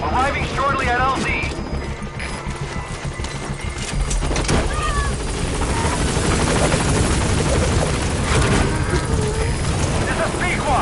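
The Pequod helicopter in Metal Gear Solid V hovers at a landing zone with a steady loud rotor roar throughout, under radio voices and clattering game effects.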